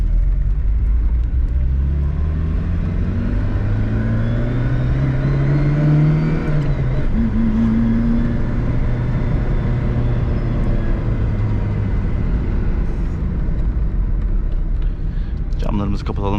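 A 1998 Tofaş Doğan accelerates up a mountain road, its loud engine drone rising in pitch through the gears with a brief dip at a shift, heard steadily from inside the cabin.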